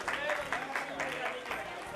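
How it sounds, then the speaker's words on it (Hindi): Brief audience clapping at an annual celebration as a student is welcomed, soft and somewhat distant, with voices talking over it. "जोरदार तालियों से स्वागत किया जाए।"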